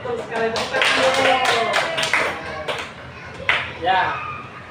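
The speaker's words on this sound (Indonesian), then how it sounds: "sekali tepuk tangan dulu." A classroom of schoolchildren claps together during a teaching lesson, with sharp, fast clapping mixed with children's voices talking and calling out nearby.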